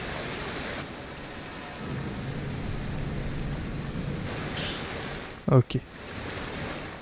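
A waterfall in Project Zero: Maiden of Black Water on Wii U pours in a constant broadband roar through the whole span, briefly broken by a couple of sharp clicks near the end.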